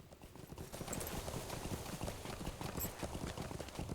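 Galloping hooves of a Rivendell horse in a video game, a fast, continuous clatter of rhythmic hoof beats over a steady background, fairly faint.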